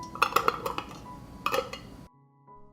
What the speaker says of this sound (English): I will cover the jars with lids.